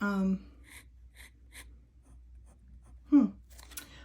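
Fountain pen nib scratching on paper, a Schmidt number 5 nib inked with brown ink in a BENU Ambrosia pen: soft, short strokes repeating in a steady rhythm between faint breaths, close and quiet.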